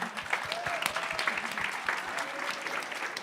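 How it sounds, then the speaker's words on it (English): Audience applause at the Western States 2025 race pre-show, fairly quiet and somewhat distant clapping with a few sharper claps near the start and faint crowd noise behind it. "Give these ladies a round of applause."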